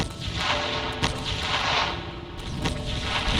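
Tank cannons fire in the Roblox video game, sharp booming blasts recurring at irregular intervals over a dense rumble of battle noise, with no talk.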